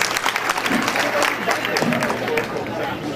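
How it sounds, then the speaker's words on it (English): A seated audience at a leadership talk gives steady, full applause throughout, with some crowd murmur mixed into the clapping. "Give yourself a round of applause."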